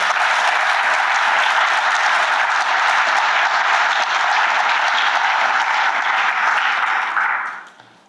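Sustained audience applause fills a hall for about seven seconds as an emcee is welcomed to the podium at a university Three Minute Thesis grand final, steady and dense before fading out quickly at the end.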